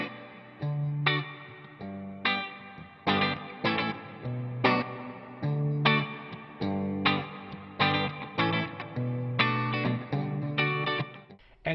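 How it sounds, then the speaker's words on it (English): Electric guitar played through a NuX MG30 processor with a damp reverb ambient effect, repeated strummed chords each swelling and decaying into a washy tail, steady rhythm, no talk. "You also get a damp reverb for creating those really cool ambient effects."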